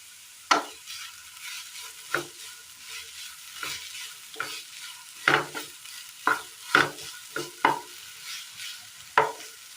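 Onions with a green chilli and a ripe red chilli fry in a pan, stirred with spaced scraping strokes over a soft, steady sizzle, close by and without talk.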